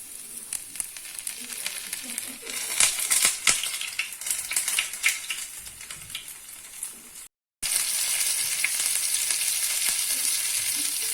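Small fish coated in semolina fry on a hot iron griddle. The close, crackly sizzle sputters in bursts, stops for a moment, then returns as a louder, steady hiss.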